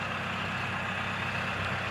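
An LS tractor with a 68-horsepower engine sits idling nearby, giving a steady, low, droning rumble with no voices over it.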